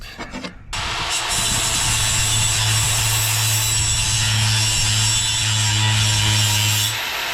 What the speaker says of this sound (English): So if I just grind away some of this corner, it's not a whole lot.